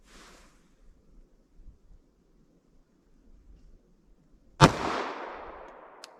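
.45 ACP pistol fired over a chronograph outdoors, a single sharp, loud gunshot near the end with a long rolling decay, after a mostly quiet stretch of faint background rumble.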